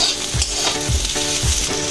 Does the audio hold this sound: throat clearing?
no